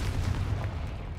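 A Confringo blasting spell goes off in the Hogwarts Legacy video game, a dense low boom with a rumbling tail that holds steady and loud for just over a second with no talk.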